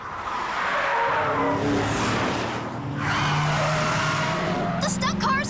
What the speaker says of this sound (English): The stunt car is coming off the tracks!